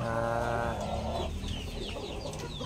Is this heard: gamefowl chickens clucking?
yes